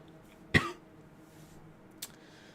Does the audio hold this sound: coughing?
yes